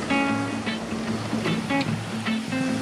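Knee-high, dumping waves break off a river mouth on an evening surf session. The surf makes a steady broadband roar that fills the whole stretch, and a person talks over it.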